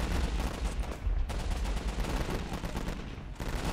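Machine gun fire from a .30 cal gun in the WWII strategy game Warfare 1944, a beach assault on German positions: dense, continuous bursts of loud gunfire and battle noise with no pauses and no talking.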